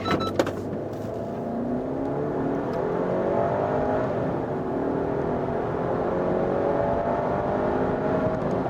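A Land Rover Discovery Sport P250 SE with a 249-horsepower engine, left in automatic mode with the air conditioning off, accelerates hard from a standstill, the engine rising steadily through its gears in a sustained, even drone heard from inside the cabin.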